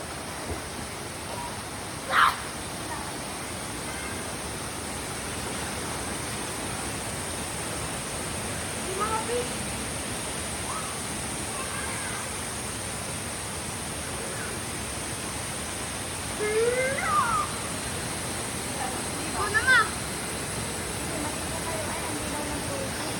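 A waterfall at Infinity Farm gives a steady, even rush of falling water throughout, with occasional voices and brief bird-like calls faintly over it.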